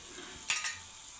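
Spices with turmeric fry in a pan, a faint steady sizzle broken by two quick, close stirring scrapes midway, with no voices.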